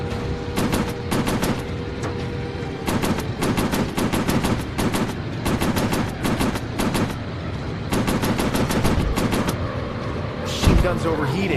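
Machine gun fire from a warplane in a Pacific air-combat VR video game, rapid bursts of close, sharp shots in repeated volleys over a steady engine drone, ending in a louder crash; a voice speaks during it.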